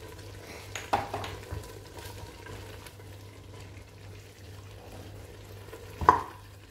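Onion and tomato sauce for Algerian chakhchoukha fries in a pan before any water is added, giving a faint steady sizzle broken by two sharp utensil clinks.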